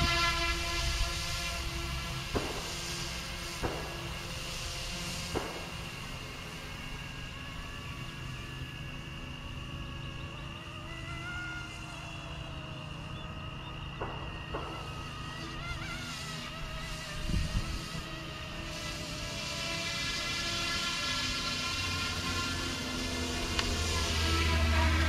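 A Sikorsky UH-60 Black Hawk RC helicopter starts up outdoors, a steady mechanical whine and hum building and holding, with sharp clicks early on and the engine note swelling louder toward the end.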